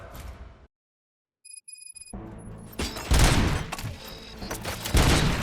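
Bursts of rapid gunfire and booming shots in the video game Robocop: Rogue City, loud and dense, after a brief silence with a few high electronic tones.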